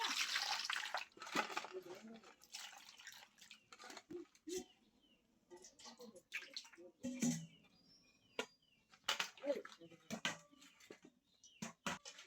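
Bel fruits being washed in water: irregular splashes and sloshing bursts come and go in uneven clusters, close by, with quiet gaps between them.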